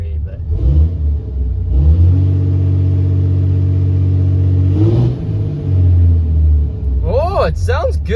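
Cheap Cummins diesel truck engine revving in a garage, loud deep rumble rising and holding through repeated throttle blips with a brief dip midway, a voice cutting in near the end.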